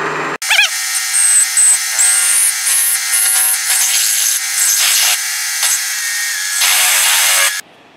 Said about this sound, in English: Now I'm going to open it up with a 7/16 end mill